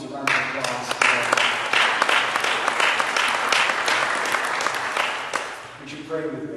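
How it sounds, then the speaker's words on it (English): A church congregation applauds its teachers, a full round of many hands clapping that swells, holds steady, then fades as a voice returns at the end. "Can we give all of our teachers a round of applause today?"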